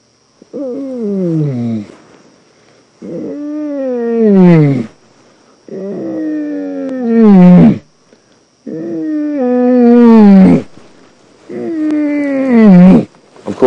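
A person's voice imitates a lion's roar in five long, drawn-out groaning calls, each rising then trailing off, separated by short pauses on a quiet safari drive.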